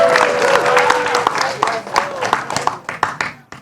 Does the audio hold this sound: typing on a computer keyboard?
no